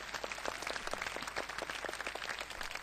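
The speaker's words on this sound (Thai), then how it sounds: "ขอเสียงปรบมือด้วยครับ" Audience applause at a Thai event, ACE2011, as a lecturer is introduced: a steady, moderately distant wash of many hands clapping, filling the whole stretch without talk.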